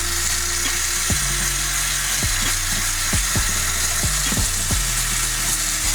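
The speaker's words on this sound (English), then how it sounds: "put it underneath the water and scrub down" A shoe sole gets scrubbed under running tap water: a steady wash of flowing water with repeated short, gritty brush strokes in an uneven rhythm, close and fairly loud, no talking.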